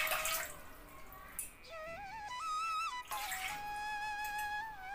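Water is poured into a pan on a stove, its rising gurgle and trickle changing pitch as the pan fills, over faint background noise.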